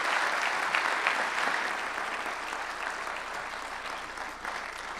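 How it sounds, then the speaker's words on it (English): A town meeting audience applauds the departing moderator, steady dense clapping from a hall full of people, somewhat distant and continuous throughout. "I hope we all give Jim Stewart a big round of applause"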